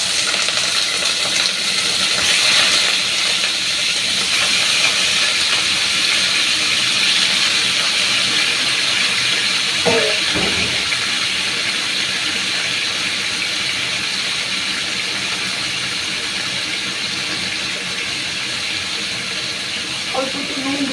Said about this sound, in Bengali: তেল গরম হয়ে গেছে। এখন আমি ওই চিকেনটা এর ভেতরে দিয়ে দিচ্ছি।